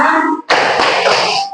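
Hand clapping in a Tepuk sifat Rasul clapping chant, a brief tap, a short pause, then a dense continuous burst of claps from a group lasting over a second.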